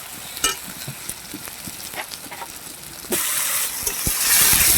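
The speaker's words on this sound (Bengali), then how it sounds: "আদা ধনে জিরা বাটা, দিয়ে এবার কষিয়ে নিচ্ছি" Chicken sautéing with ginger, coriander and cumin paste for aam kasundi chicken, a steady frying sizzle with stirring scrapes, growing louder and hissier partway through.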